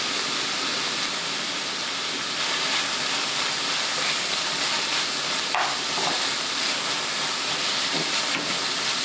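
Garlic frying in olive oil in a pan, a steady loud sizzle and hiss that runs the whole way through with no talk.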